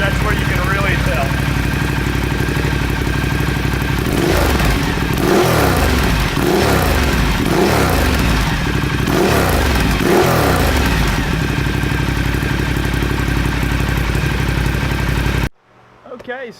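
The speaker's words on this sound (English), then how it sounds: "And when you rev it, that's where you can really tell." A Ducati Diavel fitted with a Remus slip-on exhaust idles with a deep, loud rumble, then revs sharply about five times in a row before the sound cuts off abruptly.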